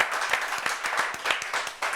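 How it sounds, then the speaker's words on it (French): A crowd at a French martial arts show claps for a fighter before a bout, individual sharp hand claps standing out over a dense bed of applause, steady and fairly loud throughout. "Qu'on applaudit très fort."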